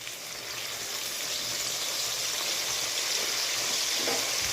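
Potatoes and flat beans frying in an oil-filled pan, a soft, steady sizzle that holds evenly throughout with a few faint stirring scrapes near the end.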